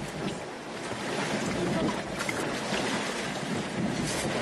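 Tsunami floodwater surges and churns past, sweeping cars along in a steady, loud roaring wash with wind buffeting the microphone throughout.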